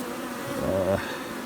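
Honey bees buzz across a brood frame from a nucleus colony, a close, steady droning hum with one bee whining briefly higher and louder in the middle.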